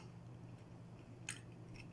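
Crunchy food bitten and chewed close to the mouth, two or three quick crisp crunches over a faint low background hum.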